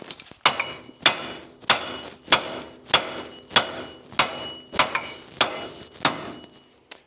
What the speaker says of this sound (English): the instructions for the ball joint include a hammer.